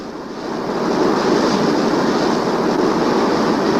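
A train on the line past Ravenscar runs into a 279-yard tunnel, a steady rushing rumble that swells after the first half-second and then holds, broad and enveloping like wind in an enclosed bore.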